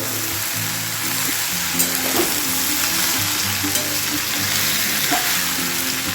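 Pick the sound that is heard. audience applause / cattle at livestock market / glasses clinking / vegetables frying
vegetables frying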